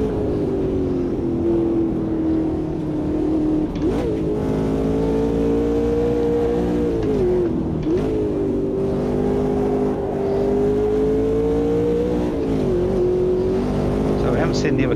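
Ultima GTR race car in the Automobilista 2 video game held at full throttle, a loud sustained engine drone rising and dipping through gear changes for the whole stretch, with someone talking over it.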